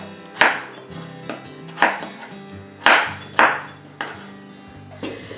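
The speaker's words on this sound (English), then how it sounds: "So I'm just going to go ahead and cut them all" A knife chops through potatoes on a cutting board, with about nine sharp, close knocks at an uneven pace and short scraping sounds in between.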